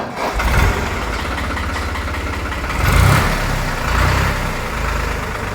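A New Holland diesel tractor engine, a 2011 5500 or 2008 5630, runs close by with a loud, rough, steady idle and a couple of surges in power.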